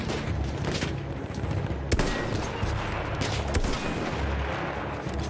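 Rifle gunfire from a Battlefield 1 video game match: dense, continuous shots and booming bursts overlap loudly, with a sharper crack standing out near the middle.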